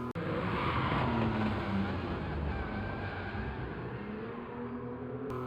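A Porsche 959 engine drones loudly and steadily around the Nürburgring in Gran Turismo 7, a sustained near roar with shifting pitch.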